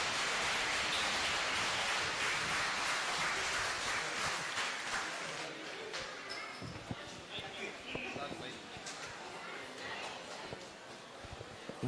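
Audience applause at a big prize-draw festival, a broad, steady wash of clapping across the hall that thins slightly midway, with scattered louder claps and a voice or two over it.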